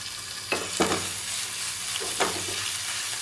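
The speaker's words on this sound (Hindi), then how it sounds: "और फिर उसके बाद इसके अंदर शामिल करेंगे लहसुन अदरक का पेस्ट।" Garlic ginger paste frying over low heat in a pan while being stirred, with a steady close sizzle and a few scraping strokes of the spoon cutting through, no voices.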